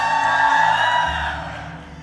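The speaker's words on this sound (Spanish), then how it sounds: "a ver, las mujeres, den un grito de júbilo" Women in a church congregation let out a sustained, loud joyful shout together, a dense crowd cry that holds steady and then gradually fades away.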